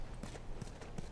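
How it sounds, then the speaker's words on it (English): A horse's hooves clip-clop during riding in The Last of Us video game, three evenly spaced soft thuds at a walking pace under quiet game ambience. "You're riding the horse here, that's so cute."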